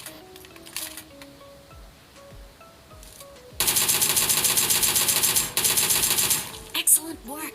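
Automatic rifle fire from the PUBG Mobile game, likely an M416, in dense rapid bursts that start abruptly partway through and stay loud with brief gaps, after a quieter stretch of game sounds and chimes.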